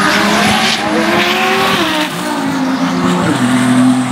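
Drag race cars at a quarter-mile strip hitting over 200 mph, loud continuous engine roar with rising revs and tire squeal, dense and sustained throughout with a crowd-level wash behind.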